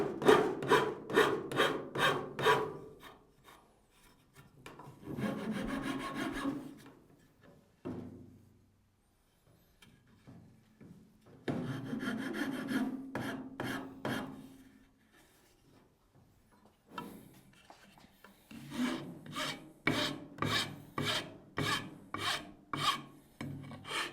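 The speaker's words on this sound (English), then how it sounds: "the more I use that rasp, the more I like it" A large wood rasp files a wooden sword in bursts of quick, even back-and-forth rasping strokes, close and loud, with short quiet pauses between sets.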